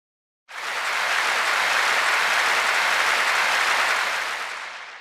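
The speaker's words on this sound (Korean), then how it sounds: "내 질문자에게 위로의 박수를 쳐주시기 바랍니다." An audience gives applause of comfort for a questioner at a Korean dharma talk, a broad, even roar of clapping that starts abruptly, holds steady and fades slightly at the end.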